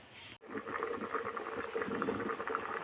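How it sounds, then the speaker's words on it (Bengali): Koi fish curry with mustard simmering under a lid, a steady close bubbling and soft patter that runs continuously after a brief cut at the start. "তরকারি কিন্তু ভিতরে টুকবুক টুকবুক করে ফুটছে"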